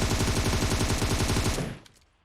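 Rapid automatic gunfire in the shooter game PUBG Mobile on the Livik map, a loud close burst of evenly spaced shots lasting about a second and a half before cutting off abruptly, with nobody talking.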